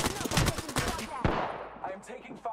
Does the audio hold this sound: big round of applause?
no